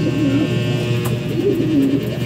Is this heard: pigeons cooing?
yes